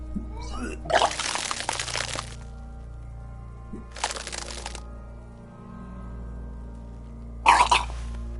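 A character retching and vomiting in the Disco Elysium video game, three separate wet bursts of splashing retching with short pauses between, over a low steady ambient hum.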